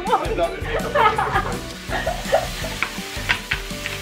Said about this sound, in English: So here we are at the frying stage.